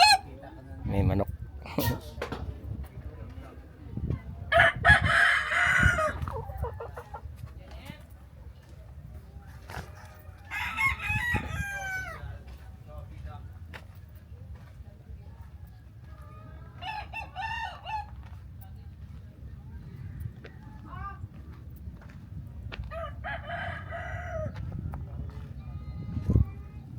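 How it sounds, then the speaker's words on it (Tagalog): Roosters crowing in repeated bursts around a Rosario, Cavite neighbourhood in the Philippines, with chickens clucking and people talking amid street ambience, some crows near and others farther off. "May manok."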